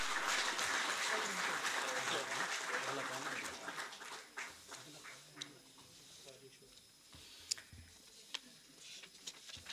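Audience applause at a felicitation ceremony for Asian Games 2022 medal winners, dense and steady at first, then thinning into scattered individual claps with a few sharp louder slaps near the end.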